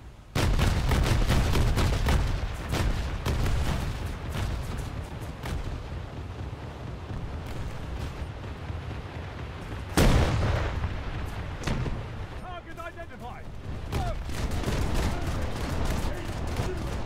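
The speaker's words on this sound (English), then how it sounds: "Yalbert was also finding out what it means to have automatic guns fired at you" Automatic gunfire and artillery in a British coastal-boat naval battle game, dense overlapping bursts and booms, with a loud heavy blast near the middle and a voice talking faintly underneath.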